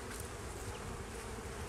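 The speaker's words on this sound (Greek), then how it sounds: "Είναι πλαίσιο το οποίο ήταν έξω από το φελιζόλ και βλέπουμε ότι είναι γεμάτο μέλισσες" A dense, steady drone of many honeybees buzzes close up on a hive frame crowded with bees during an April hive inspection, with no talking.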